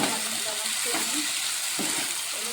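Potatoes frying in a pan with green chilli, ginger and tomato paste being added for ghugni, a steady close sizzle with soft stirring scrapes throughout, no talking.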